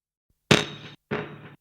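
Sound sent through a Watkins Copicat tape echo with Culture Vulture distortion, two short, crunchy, distorted bursts, close and alone, separated by a brief gap of silence.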